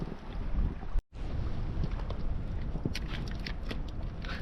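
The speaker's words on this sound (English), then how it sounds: "But man, the wind is crazy." Strong wind gusts buffet the microphone on open water during a fishing trip in the far north of Sweden, a loud continuous roar with a brief dropout partway through and no talk.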